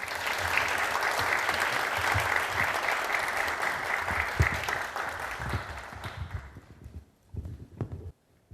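Warm applause from a lecture audience welcoming a professor to a national park innovation forum, steady dense clapping for about six seconds before thinning into a few scattered claps and fading out.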